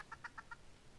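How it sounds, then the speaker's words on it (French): Minecraft chickens cluck in a quick run of four short, bright squawks, about a tenth of a second apart, fairly close and alone with no talk over them. "On va tuer les petites poules, ça nous fera de la nourriture."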